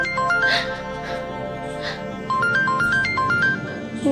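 A phone plays a loud, steady melodic ringtone for an incoming call from mom, its stepped tune repeating close by without pause.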